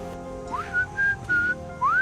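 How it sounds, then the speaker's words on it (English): A person whistles a short tune in four rising and held notes, fairly close and clear, with no talking. "What's the whistling for?"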